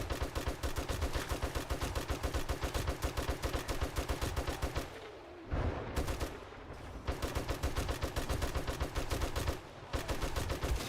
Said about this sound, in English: Let's try out the old 45 here and see how it does